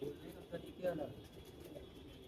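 Low pigeon cooing murmurs beneath a steady background hum, with a slightly louder coo swelling near the middle; faint voices may mingle in.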